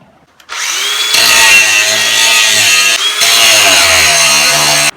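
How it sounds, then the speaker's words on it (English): An angle grinder cuts rivets off the frame cross member of a 1994 Ford Ranger, a loud, close, high whine of metal grinding that starts abruptly, dips briefly twice, and carries on without any talk. "I'm gonna grind these rivets off here and get that cross member out"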